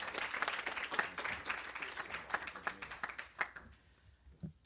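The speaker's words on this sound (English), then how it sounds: "Won't you please give him a warm round of applause?" Audience applause at a National Press Club event greets a journalism professor, dense clapping from many hands that swells, then thins out and fades to a few scattered claps near the end.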